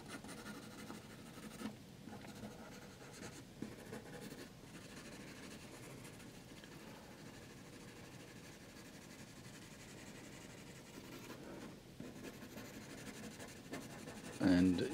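An HB graphite pencil drawing rock details on cotton paper, giving a steady, close, soft scratching that runs throughout at a low level with brief pauses, ending in a louder burst.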